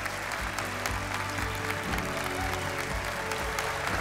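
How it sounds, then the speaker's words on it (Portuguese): An audience applauds steadily for a magic act on a television talent show audition, dense clapping filling the hall without pause from start to end. "por isso preciso de um forte aplauso para o Manuel."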